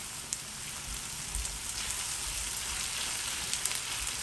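Onions hit a pan of frying karela (bitter melon), giving a steady, even sizzle with scattered small pops throughout, close and moderately quiet, with no voices.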